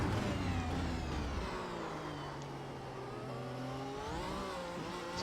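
A Formula 1 race car engine in the iRacing sim at the Austrian Grand Prix drones steadily throughout, its pitch sweeping up and down through gear changes and throttle shifts, loud and continuous with no talk over it.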